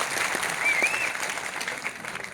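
Meeting audience clapping together in a hall, a continuous burst of applause with a short whistle near the start, easing off slightly toward the end.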